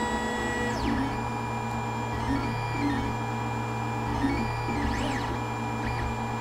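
Creality Ender 3 3D printer under a drive motor test, giving a steady electrical hum with faint whirring sweeps and occasional soft mechanical chirps, low and continuous for several seconds.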